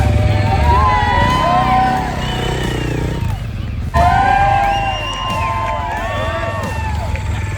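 A crowd at a Supercross event in Glendale cheers and whoops loudly as KTM riders ride off, with motorcycle engines revving underneath and voices shouting nearby.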